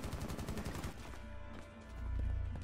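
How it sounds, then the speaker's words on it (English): Rapid automatic gunfire in the video game Rainbow Six Siege rattles out as a quick rhythmic burst, then gives way to scattered shots and fainter in-game noise. "Wait, whoever that is, stop shooting."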